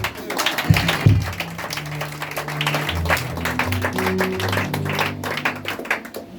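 A church congregation claps and cheers together for God, a dense wash of applause with scattered crowd noise and music underneath, steady and fairly loud throughout.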